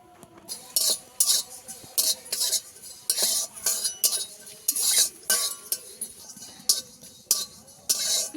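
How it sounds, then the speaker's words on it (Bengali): Cumin seeds frying for ghugni as a metal spoon clinks and scrapes against the pan in a steady, regular rhythm of sharp taps, close and fairly loud, with only a faint sizzle beneath. "জিরেটাকে ভালো করে ভেজে নেব"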